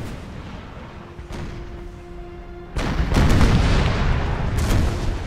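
Cannon and musket volleys roar through a battle in the Imperial Splendour mod, a steady rumble of distant fire that swells abruptly into louder, denser booms and crackling bursts partway through, with no talking.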